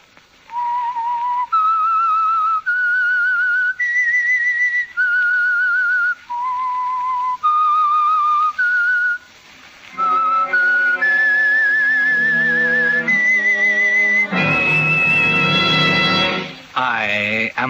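A solo whistler carries the slow, eerie opening theme of The Whistler, a 1946 radio mystery drama, in long held notes. Full, loud music with rich chords then takes over the second half.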